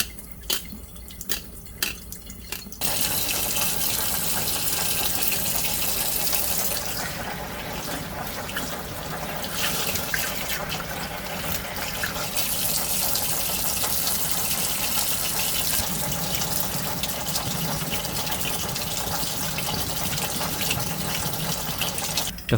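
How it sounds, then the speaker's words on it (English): Water runs steadily from a kitchen faucet into a sink while a fish is cleaned for Korean spicy fish stew, a continuous close splashing hiss that swells and eases slightly over its length, with no talk. "The easiest way to do this is to turn on the faucet and scrape the innards of the fish with a knife."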